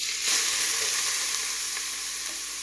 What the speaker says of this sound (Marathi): आता मी गाजर टाकून घेते.